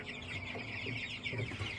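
A cluster of day-old chicks peeps continuously in high, overlapping chirps, close and fairly quiet, with a soft background hum from a heat lamp.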